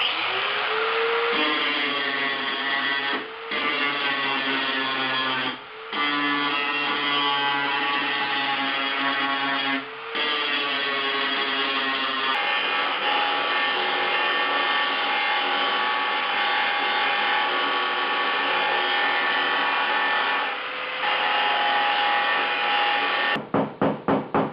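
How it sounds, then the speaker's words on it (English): An angle grinder whines steadily and loudly while grinding welded thin sheet-metal firewall patches on a 1976 Mazda RX-5 Cosmo under restoration, with a few brief pauses and a quick stuttering cut-off at the end. "Grinding!"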